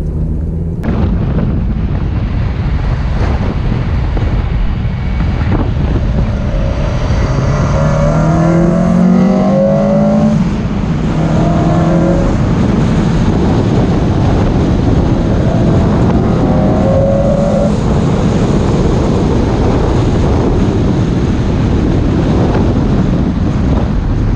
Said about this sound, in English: right where the induction kit is, I'm hoping that you might get a bit of noise